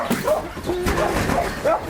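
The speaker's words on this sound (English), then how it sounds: "And some of my sweetest dogs are pit bulls." A pit bull dog lets out short barks and yips with whimpering notes, close by, mixed with other dog sounds and background voices.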